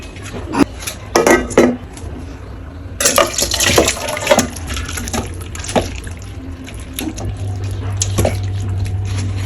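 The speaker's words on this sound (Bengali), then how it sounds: "হয়ে গেছে, এখন অন্য একটা কড়াই ঢেলে নেব।" Cooked vegetable curry of turnip, beans and cauliflower is scraped and poured from one wok into another, with metal clatters, sloshing liquid and spoon knocks, close and loud.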